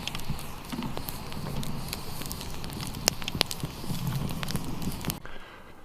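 A campfire crackles in a forest at a bushcraft overnight camp, a steady hiss of burning wood broken by scattered sharp pops and snaps, close and fairly loud before cutting off abruptly.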